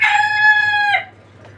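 A rooster on a Bangladeshi farm with local laying hens lets out one loud, close crow lasting about a second, followed by near quiet.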